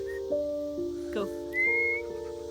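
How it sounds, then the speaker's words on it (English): A person whistling on a farm to call a dog, a series of short clear whistled notes with rising and sliding pitches, close and distinct, sounding alone without talk. "She's whistling for her."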